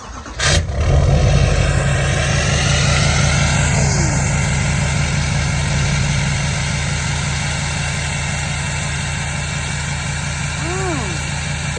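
Diesel truck engine with a CP3 fuel pump conversion and a 5-inch straight-pipe exhaust from the turbo back, starting with a brief crank, then idling loud and steady with a deep, even drone that carries on to the end.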